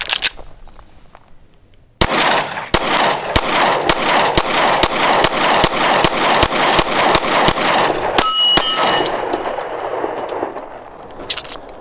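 Fifteen rounds from an inexpensive handgun fire at targets outdoors, loud sharp shots in a steady rhythm about every half second, then a metallic clank and fading echo.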